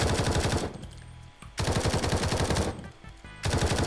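Rapid automatic fire from MK18 and SA80 rifles in the War Tycoon video game comes in loud, close bursts, separated by two short pauses with faint lingering echo.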